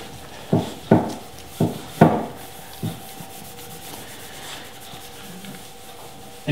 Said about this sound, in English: I'm being generous with the wax because it's really dry. This oak is really, really dry.